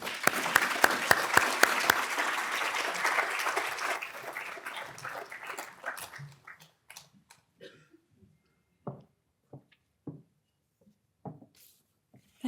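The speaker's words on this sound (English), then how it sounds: "I invite you to give a round of applause for Professor Madden" An audience at a healthcare lecture claps for the speaker, a burst of fairly full applause that fades over a few seconds into a handful of isolated claps and near silence.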